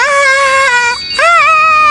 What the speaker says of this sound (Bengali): তাই তো ট্রেন এসে থামলে শিনচ্যানের মিউজিক বাজে